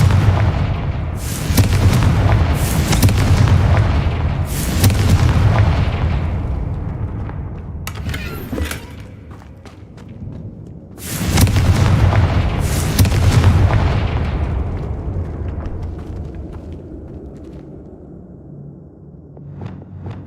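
Repeated fire-blast spell explosions in the Hogwarts Legacy video game, loud booming bursts arriving in clusters with rumbling decay between, with no talking over them.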